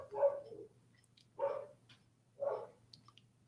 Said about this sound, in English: there goes my dog again